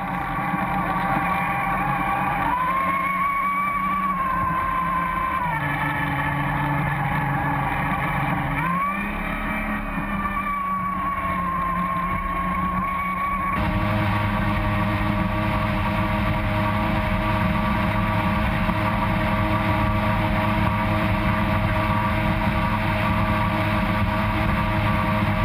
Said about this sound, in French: Pour les amateurs de motonautisme, de moteur, c'est un moteur Johnson